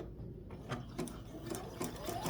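A domestic sewing machine stitches quilt appliqué in short, quiet bursts of rapid mechanical clatter, faint and close, with no voices.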